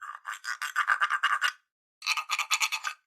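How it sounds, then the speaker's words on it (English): An agogo bell is scraped in quick rhythmic strokes, producing a dry, rasping ratchet-like sound in two bursts separated by a short silence, close and clear. "It makes a scrapey sound."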